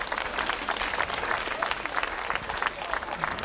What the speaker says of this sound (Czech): Děkujeme za potlesk